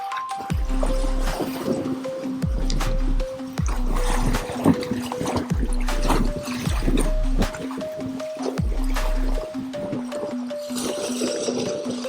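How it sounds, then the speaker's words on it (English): A Ford Bronco Sport splashes and churns through shallow creek water on a trail near Banff, with sloshing and dripping over a steady engine drone, close and continuous. "So we're coming back across the creek."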